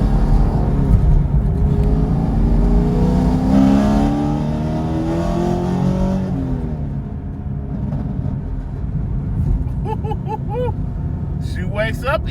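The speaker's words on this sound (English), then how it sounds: "Y'all heard that exhaust talk a little bit." A heads-and-cam Chevrolet Camaro in tour exhaust mode accelerating, a deep rumbling exhaust rising in pitch as it pulls away, heard from inside the car with a voice talking over it.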